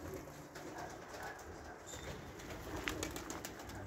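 Pigeons cooing on a rooftop loft amid quail and flapping flocks returning to a building, a steady outdoor bird murmur with a few brief wing-flap bursts and no talking.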